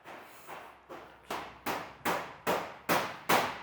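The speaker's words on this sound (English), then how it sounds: "We just heard all the hammering" Eight evenly spaced hammer blows from next door during a shop floor fit-out, each a sharp strike with a short ring, spaced about half a second apart and growing slightly louder, with no voices.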